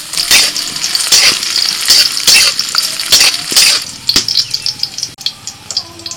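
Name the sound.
cashews and raisins frying in oil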